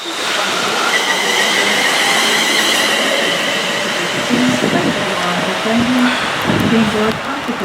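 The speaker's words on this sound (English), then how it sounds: "so that's the train that we've just got off now" A passenger train pulls away from the platform at Branchton station, its steady rolling rumble close and loud, with a thin high wheel whine above and a voice speaking briefly underneath.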